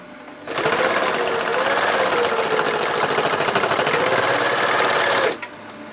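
A sewing machine stitching a rollup backpack starts up and runs at a steady, fast whirring clatter for about five seconds, close and loud, then stops abruptly.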